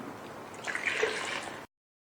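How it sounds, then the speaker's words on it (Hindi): Water trickling and splashing as it is poured into strawberry juice for a Ramadan drink, a steady liquid pour of about a second, moderately close, with no talking. "4 कप पानी शामिल कीजिएगा इसमें।"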